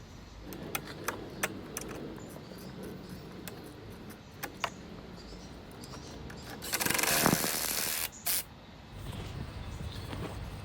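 Tool work on 13 mm nuts holding a front shock absorber on a 2008 Ford Fiesta, with sharp metallic clicks and taps spread through the clip, then a loud hissing burst in the middle.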